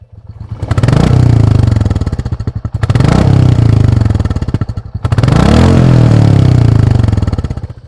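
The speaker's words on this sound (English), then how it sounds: "And that's what seems like 6000 revs." A Royal Enfield 350 motorcycle engine revs hard three times to about 6000 RPM, each burst climbing to a loud high-rpm roar and then easing off, with mechanical clatter between the bursts.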